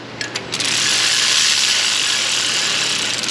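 Bolts being tightened until bottomed out on a Honda Civic engine: a few quick ratchet clicks at the start, then a loud, steady mechanical whir that runs on without a break, close to the listener.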